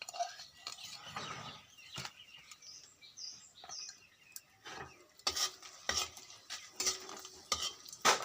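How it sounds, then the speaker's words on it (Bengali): Dried red chillies fry in hot oil in a pan after fish, with a spoon scraping and stirring in repeated bursts over a faint sizzle; quiet kitchen with a bird chirping. "শুকনো লঙ্কা দিয়ে দিচ্ছি।"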